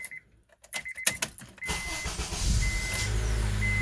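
A 2007–2011 Honda CR-V with a newly replaced starter cranks briefly after a few clicks and handling noises, then catches and settles into a steady, close idle that runs to the end.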